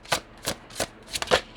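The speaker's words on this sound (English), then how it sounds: "let's just get one more shuffle" Cards are shuffled during a tarot reading, five quick riffling bursts in an uneven rhythm, close and crisp, with no talking.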